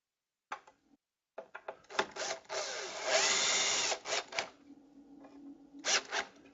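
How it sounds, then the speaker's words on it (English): A power drill drives a screw into a Roman shade bracket in short, close, loud bursts of whirring, including one sustained run in the middle, with no talking. "I'm just going to put this other screw in the bracket, 2 screws per bracket"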